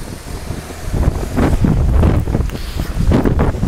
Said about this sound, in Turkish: Seslerinde anlaşıldığı gibi arkada rüzgar sesleri de gelebilir